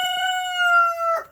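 A rooster at a chicken coop lets out one loud, close crow, a sustained tonal call that trails off with a short rough ending.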